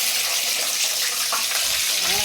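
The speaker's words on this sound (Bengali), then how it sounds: "এইদিকে বাসন ধুচ্ছে, ওদিকে আলু ভাজা হচ্ছে।" Dishes are washed under a running tap while potatoes fry nearby, mixing a steady gush of water with a soft background sizzle and occasional clinks.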